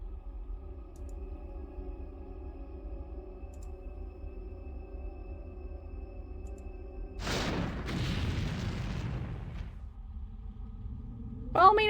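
A grenade explosion in the 1997 video game X-COM: Apocalypse, a sudden loud boom with a rumbling decay lasting a couple of seconds, over a low droning game background.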